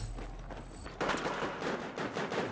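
Gunfire from a Battlefield video game, with pistol shots among it: a near, loud rapid burst of shots begins after a quieter opening and carries on in repeated cracks to the end.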